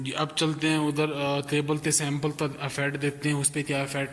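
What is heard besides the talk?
No everyday noises stand out.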